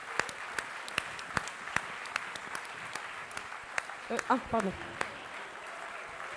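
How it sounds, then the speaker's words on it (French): The audience at the 2014 ENSASE graduation ceremony offers sparse, scattered claps in a quiet hall, crisp separate hand strikes spread across several seconds while a person briefly speaks near the middle. "On les applaudit."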